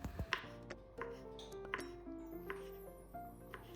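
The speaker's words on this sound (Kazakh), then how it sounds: "Саңырауқұлақтарымызды осылай 4 бұрышты етіп, ұсақ-ұсақ етіп тураймыз." A knife chops mushrooms into small cubes on a cutting board in quick, uneven strokes, close and fairly loud, with a few clinks of kitchenware. No one speaks.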